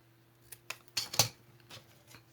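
Scissors snipping paper in a few short, close cuts, two louder snips in the middle among softer clicks, alone in a quiet room.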